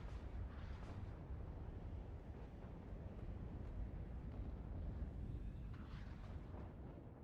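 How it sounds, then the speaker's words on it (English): Artillery barrages and explosions in the Cold War real-time strategy game WARNO rumble steadily as a dense, low booming wash with no clear separate blasts, playing alone without talk. "Artillery coming in nicely."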